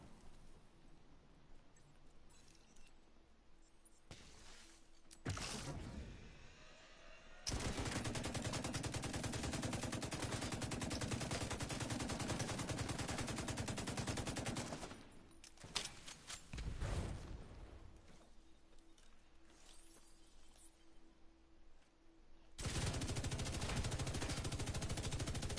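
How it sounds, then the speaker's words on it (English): Video-game gunfire in The Division 2 comes as long sustained automatic bursts and rapid volleys, loud and dense, with short quieter gaps between the barrages and no talking. "My gun goes pew pew."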